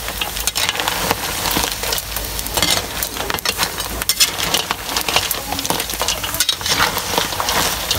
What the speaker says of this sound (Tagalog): Haluin natin dito.